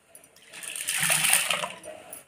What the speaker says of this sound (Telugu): తగినన్ని నీళ్ళు పోసుకొని పప్పును నానబెట్టుకోవాలి